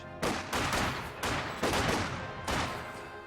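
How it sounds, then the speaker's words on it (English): Bursts of MG42 machine gun fire in a video game, three long rattling volleys in a row, loud and close with brief gaps between them. "MG42 has our range."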